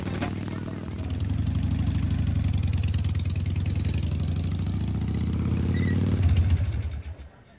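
A motorcycle engine runs steadily at close range with a low, throbbing idle-like rumble, swelling slightly louder near the end before cutting off.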